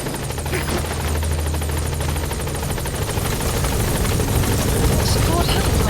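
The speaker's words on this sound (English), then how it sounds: "Support helicopter has arrived." A support helicopter arriving at a landing zone in Metal Gear Solid V: The Phantom Pain thrums loudly and steadily nearby, a dense whirring drone that swells slightly, with a voice speaking under the noise.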